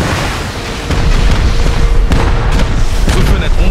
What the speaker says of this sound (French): Coup de grenade, c'est très bien les grenades, les gars.